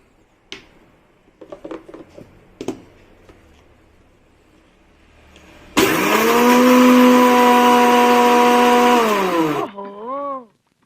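An electric mixer grinder powders Oreo biscuits. A few light knocks and clatters come first, then the motor starts with a loud, steady, high whine for about four seconds, cuts off, and gives one short final burst.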